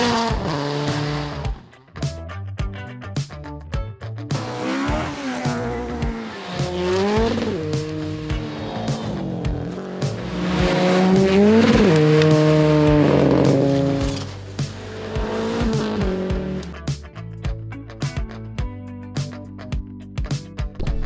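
Rally cars race past on a forest stage, engines screaming through rising and falling passes with tire squeal and skidding, several loud close fly-bys followed by quieter distant engine noise.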